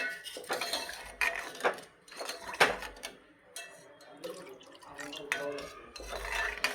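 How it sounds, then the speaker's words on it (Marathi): Hot milk, about half a litre, being stirred into barnyard millet for a fasting kheer in a pot, with repeated clear clinks and scrapes of a spoon against the metal vessel at close range and no talk. "आता यामध्ये मी गरम केलेलंच दूध आहे ते घालतीये साधारण अर्धा लिटर हे छानपैकी मिक्स करून घेऊयात"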